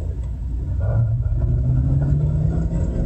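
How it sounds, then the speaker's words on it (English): Chevrolet Avalanche accelerating gives a low, steady engine rumble and road noise heard from inside the cab, rising slightly in level as it pulls. "I'm gonna accelerate a little bit harder this time."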